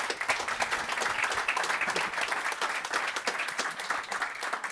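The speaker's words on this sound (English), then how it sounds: "A big round of applause for the panel." Corporate event audience giving a panel a steady round of applause, dense continuous clapping at moderate distance that holds evenly throughout with no talk over it.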